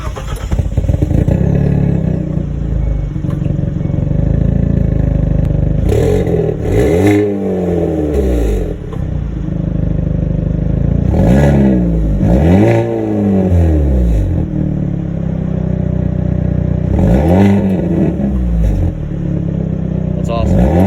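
A 2020 Hyundai Veloster N engine revving repeatedly, loud rising and falling exhaust bursts over a steady idle drone, with voices talking in between.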